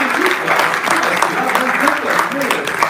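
An audience at a memorial ceremony claps in steady, dense applause, while a voice talks over the clapping.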